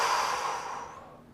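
A single deep inhale during a leg and groin stretch in a mobility routine, a close, breathy rush that starts full and slowly tapers off, ending in a brief sharp sound.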